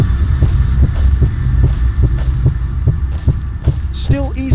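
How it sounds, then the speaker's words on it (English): Heartbeat minigame from the Roblox horror game Doors: a steady, looping thump-thump pulse repeating about every half second over a low hum, with a brief electronic warble near the end. "heartbeat mini game"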